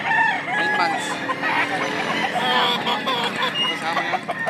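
A fighting rooster crows loudly and clucks at a gamecock market in Lipa, Batangas, with other fowl calling and people talking in the background throughout.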